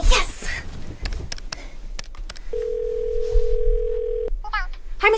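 A telephone dial tone holds steady for about two seconds, preceded by clicks and rustling handling of a phone and followed by a few keypad beeps, with a voice at the start.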